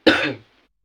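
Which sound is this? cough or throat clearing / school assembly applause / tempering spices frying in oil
cough or throat clearing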